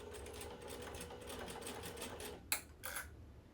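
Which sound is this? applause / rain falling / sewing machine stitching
sewing machine stitching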